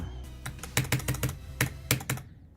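About ten sharp, close computer keyboard clicks in quick bursts as a gamer hammers keys during play, crisp and clear against a quiet background.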